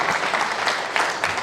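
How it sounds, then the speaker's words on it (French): Audience applause at a diploma-of-honour ceremony for teachers in Senegal, a brief burst of clapping from a room of people, fairly loud and steady throughout. "On applaudit M. Mamadou Ngom pour ses années de service."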